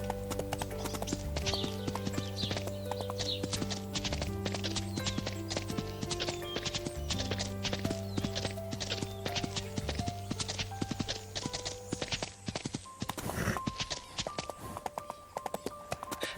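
Horse hooves clip-clopping at a steady walking rhythm in the video game Sound of Horses, crisp repeated taps over a sustained musical score.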